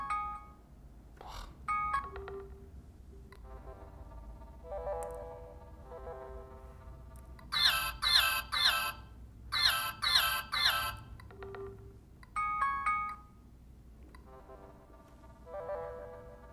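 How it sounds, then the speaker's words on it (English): A series of short electronic phone alarm ringtones and chimes on an Android phone play one after another, including rapid triple beeping bursts, fairly clear with quiet pauses between samples. "All those ringtones sound a bit lame to wake up to, kind of startling"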